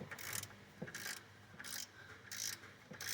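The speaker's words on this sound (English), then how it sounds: "I'm just going to go ahead and tear the threads out of the pump housing" A wrench working a bolt on a Ford F150 pump housing, tearing out its threads: five evenly spaced bursts of metallic ratcheting and grinding, close and moderately loud.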